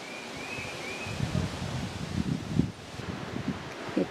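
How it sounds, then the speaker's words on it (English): Wind gusts across an outdoor driveway with a mountain view under cloudy skies, a steady rushing roar with low buffeting thumps against the microphone, continuous and moderately loud, with no voices. "It's windy now."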